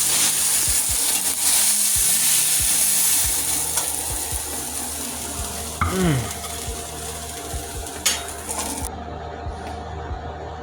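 A steak fries in a pan with a steady, close sizzle that crackles throughout, joined by occasional stirring and scraping sounds. A faint pigeon-like coo and a sharp clink are heard near the end.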